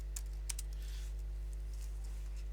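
Brief bursts of computer keyboard typing, a few quick clicks over a steady low electrical hum, then mostly quiet.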